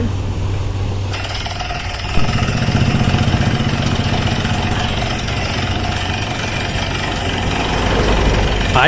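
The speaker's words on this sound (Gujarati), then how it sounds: "તમને બોરિંગ મશીનમાં અંદર અવાજ આવે છે થડ થડ થળ" A borewell drilling machine boring into rock on a rural farm, running loud and steady as a continuous heavy mechanical drone with a rough knocking pulse throughout, briefly under a short spoken word.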